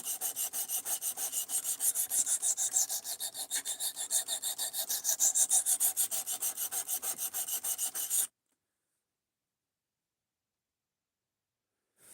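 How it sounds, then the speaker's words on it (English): A knife is drawn repeatedly across a sharpener in quick, even strokes, a close, bright rasping rhythm lasting about eight seconds before stopping abruptly into silence. "I love this sharpener"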